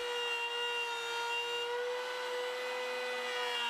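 A router cutting wood with a Milescraft SignPro sign-making template gives a steady, loud, high-pitched motor whine with a rich buzzing tone that holds evenly throughout.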